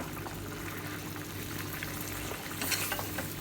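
Prawns cooking in a pan on a stove as their water separates out, a continuous low sizzle and bubbling with occasional stirring scrapes, steady and moderately close.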